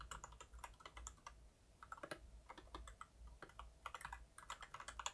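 A computer keyboard is typed on while every key gets tested, a quiet close run of irregular clicks in short bursts with small pauses, no voices.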